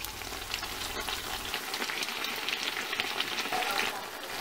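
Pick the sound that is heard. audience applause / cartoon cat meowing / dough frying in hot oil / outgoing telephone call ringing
dough frying in hot oil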